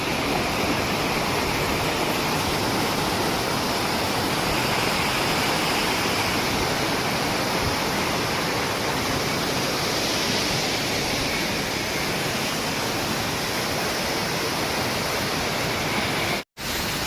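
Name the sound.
Rani Duduma waterfall in Odisha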